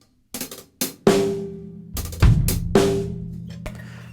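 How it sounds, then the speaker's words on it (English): Snare and drum kit strokes in irregular clusters based on a six-stroke roll, sharp hits with ringing tails and a few quick grouped strokes, close and loud. "I am playing a 6-stroke roll."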